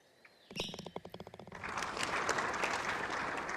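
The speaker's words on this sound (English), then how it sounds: "Thank you very much for the claps." A short burst of sparse clapping from a VR golf game arrives after a soft start, then thickens into a steady wash of applause that continues to the end.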